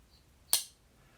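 A single short, bright metallic clink of a custom integral pocketknife blade closing, with a quick decay, loud and close, alone against near silence.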